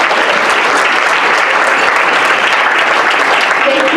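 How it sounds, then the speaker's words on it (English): An audience at a Habitat for Humanity 40th anniversary breakfast applauds loudly and evenly, a thick continuous wash of clapping from a full room. "give yourself an applause"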